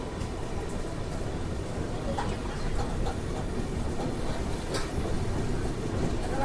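The Bokaro Express rolls along with a steady low rumble and faint rhythmic wheel clatter, moderately loud and continuous with no voices.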